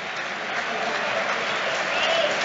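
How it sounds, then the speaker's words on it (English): Sustained crowd applause fills a stadium during a Manchester City versus Manchester United Premier League match, a continuous wash of distant clapping with no breaks. "Still the applause continuing"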